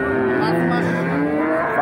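A five-month-old calf at a cattle market gives a loud, close, drawn-out moo lasting nearly two seconds.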